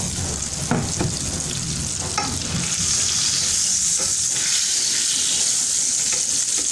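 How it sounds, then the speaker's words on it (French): Onions sizzle loudly in melted butter in a hot pan, a steady hiss with occasional scraping and stirring clatter early on. "Faire grésiller des oignons."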